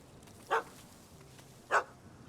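A dog in The Witcher 3 barks twice, two short sharp yaps spaced about a second apart over a quiet ambient game background, after chasing a cat up a tree.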